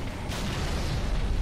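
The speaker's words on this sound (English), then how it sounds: "God, the grenades." Grenades burst in Halo 3 campaign play on PC, a dense, continuous low rumble of explosions filling the moment, loud and sustained without a clear gap between blasts.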